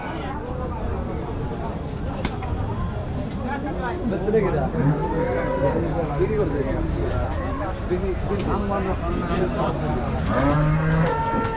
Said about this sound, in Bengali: এই হাটে প্রচুর পরিমাণ মহিষ ওঠে